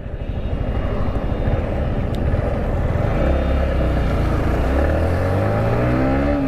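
A 2022 Yamaha MT-15 V2.0 motorcycle accelerates hard from a standstill in a 0 to 60 test, its engine note climbing in pitch through successive rising sweeps, loud and close with constant wind rush.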